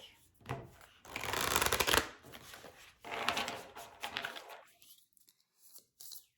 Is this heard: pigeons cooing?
no